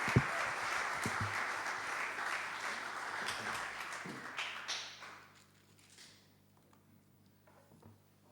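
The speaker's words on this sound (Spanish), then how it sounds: "Aplauda al Señor en esta mañana, en esta tarde." Church congregation applauding during a Spanish-language worship service, a dense, steady wash of clapping for about five seconds that then fades out, leaving near silence.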